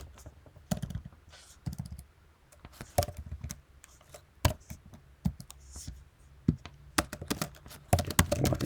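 A computer keyboard is typed on up close, with short bursts of clicky keystrokes separated by pauses, faint and alone.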